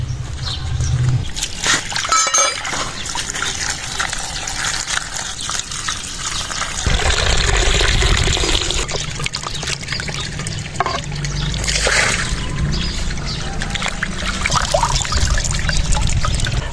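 Dried fenugreek leaves (kasuri methi) are washed by hand in water, a loud continuous sloshing and splashing with pouring and trickling, close up and unbroken for the whole stretch.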